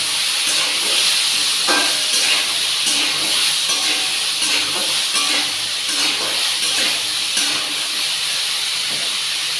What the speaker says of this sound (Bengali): এটা দিয়ে ভালো করে ভেজে নেবো।